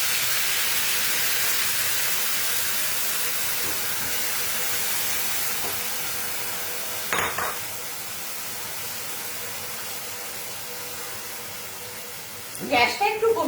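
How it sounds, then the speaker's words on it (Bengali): Paneer paste hisses and sizzles in a hot pan with already fried dried red chillies, a steady broad spray of steam that eases off, punctuated by a couple of sharp clatters from a utensil. "আমি এর মধ্যে দিয়ে দিলাম আমাদের পনিরের পেস্টটা।"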